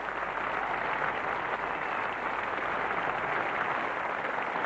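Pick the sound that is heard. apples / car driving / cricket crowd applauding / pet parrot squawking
cricket crowd applauding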